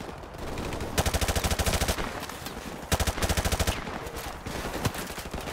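Machine gun fire in Call of Duty 4: Modern Warfare, loud and close, with two sustained rapid bursts of evenly spaced shots separated by a pause and followed by scattered single shots.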